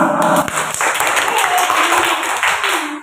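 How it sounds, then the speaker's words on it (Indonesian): Students in a primary school classroom clap for a group about to present, a brief burst of clapping mixed with children's voices chattering. "Tepuk tangan dulu buat kelompok 2."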